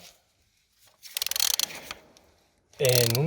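A metal tool tightens a plastic car oil filter housing during an oil change, giving a rapid series of ratcheting clicks in a short burst, followed after a pause by a louder, sustained mechanical whir.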